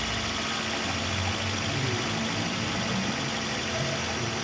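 A Toyota Corolla engine idles steadily after an idle adjustment, a continuous low hum at moderate level with no talking.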